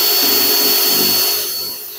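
Power drill turning a 1/8 inch bit while building a DIY bait tank: a loud, steady whirring whine that runs the whole moment and tapers off slightly toward the end, with no voices.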